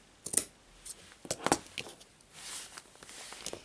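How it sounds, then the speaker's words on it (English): Scissors snip through the thread tie of a handmade friendship bracelet, a few sharp close clicks and snips in a quiet room. "I will take the scissors and cut"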